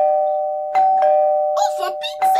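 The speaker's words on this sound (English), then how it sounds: "We're going to ring Granny's doorbell and then run away" A doorbell chime rings in a sustained, clear tone. Voices and a few sharp noises join partway through and continue over the fading ring.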